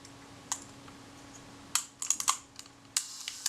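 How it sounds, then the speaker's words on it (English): Shutter mechanism of a Kodak Retina IIIc camera cocking while the film advance lever is worked: sharp mechanical clicks and small ticks close by, sparse at first, then clustered in quick bursts over a faint steady hum. "what I'm listening for at this stage is to hear the shutter cocking before the film advance gets to the end of its stroke and releases"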